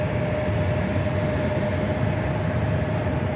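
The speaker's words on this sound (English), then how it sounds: "I'm loving those takeoffs" A jet airliner takes off at LAX, heard as a broad continuous roar with a steady tonal hum, distant but filling the air throughout, with no talk.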